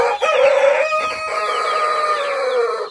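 A rooster crows loudly and close up among clucking chickens on a fenced rural property in Brazil, the long crow dominating with hens clucking around it and no speech.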